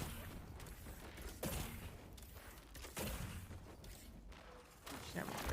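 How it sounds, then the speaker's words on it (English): Video game gunfire rings out as several sharp, loud shots and short bursts, spaced irregularly over a steady background of game noise. "I'm gonna just shoot this ghost"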